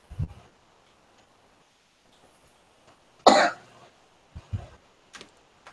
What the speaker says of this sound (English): By the way, that cough was in character.